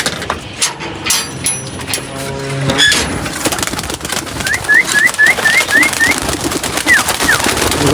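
Young pigeons call from their loft in a quick run of short, rising chirps, then two more, mixed with rustling and knocking sounds at close range.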